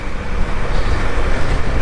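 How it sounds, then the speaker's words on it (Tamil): A lorry rumbles past on the highway during a Unicorn 160 motorcycle ride from Dindigul to Madurai, a loud broadband roar blended with wind and engine noise, steady and close for the whole moment. "லாரி போகுது"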